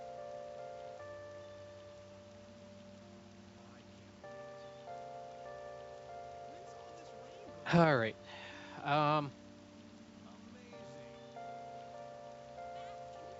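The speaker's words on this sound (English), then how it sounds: "nothing really wrong running in the rain." Steady rain falling in the video game Persona 5 Royal, a soft continuous patter under game music, with two brief louder bursts of sound partway through and a short spoken phrase.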